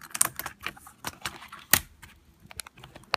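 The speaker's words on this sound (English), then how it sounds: "release the keyboard with these two tabs that are located within the keyboard" Plastic tabs on an iBook G3 laptop keyboard being released, heard as a quick series of close, sharp clicks and light rattles with irregular spacing and one louder snap midway, with no talking.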